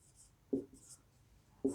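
Pen or marker on a board while a teacher writes out an English sentence in a lesson, with two short scratchy strokes about a second apart amid quiet room noise.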